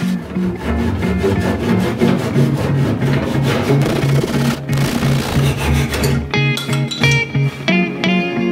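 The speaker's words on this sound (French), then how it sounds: "maintenant il faut que je scie le bout" Rhythmic back-and-forth sawing through the wooden end of a canoe, close and loud with steady strokes, ending in a few slower, separated strokes.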